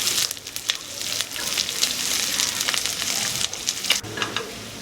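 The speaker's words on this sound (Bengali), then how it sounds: "তেলের মধ্যে দিয়ে দেব কেটে রাখা পেঁয়াজগুলো" Chopped onions go into well-heated oil for a Kashmiri mutton rogan josh and fry with a steady, loud sizzle and crackle, with a few brief stirring scrapes and no talking.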